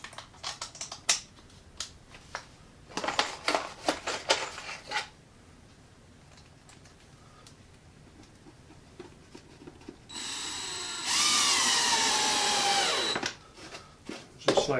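A power drill bores into a wooden board while building a simple birdhouse, giving a steady loud whine for a few seconds that rises to a stronger high-pitched grind, after scattered clicks and handling knocks.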